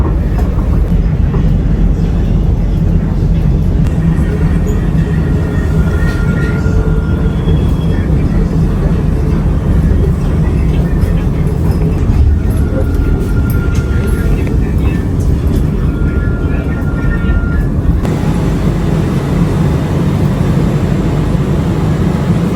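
Automated SkyTrain people mover running between terminals at Jakarta's Soekarno-Hatta Airport (CGK), a steady rumbling ride with continuous low wheel and motor noise throughout, and faint squeals and tones higher up.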